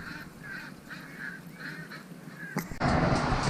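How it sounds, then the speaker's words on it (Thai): A mother duck on a small backyard farm gives a series of rhythmic honks at moderate distance, followed by a sudden louder rustling burst. "นี่ก็คือเป็ดอีแม่"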